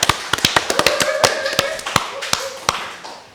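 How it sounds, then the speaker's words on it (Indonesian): Small group applause during a podcast gathering of a Panther car community, a few sparse, uneven claps rising to a loose patter, close and fairly loud. "Tepuk tangan teman-teman"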